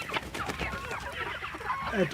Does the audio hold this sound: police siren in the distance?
no